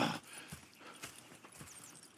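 Horses in the video game Red Dead Redemption clop softly at a walk, a few faint hoof strikes spaced out over a quiet background with a brief snort or whinny at the start.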